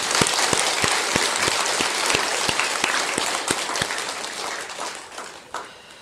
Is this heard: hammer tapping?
no